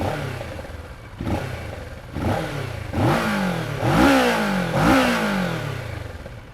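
A 2021 Kawasaki Versys 650 middleweight touring motorcycle fires up and is blipped in a series of about five sharp revs that climb and fall back, each one slightly louder, close and with no one talking.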